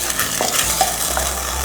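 A pan of sweet and sour sauce with a spoonful of oyster sauce is stirred, giving a brief, close scraping and light sizzling with a few soft utensil knocks against the pan.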